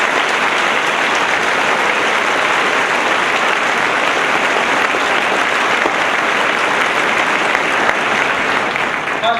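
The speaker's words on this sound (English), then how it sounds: "Please, everybody in this room, give our teachers a huge round of applause." A crowded room at a high school graduation applauds the teachers, dense and loud sustained clapping that holds steady for the whole stretch without any voices.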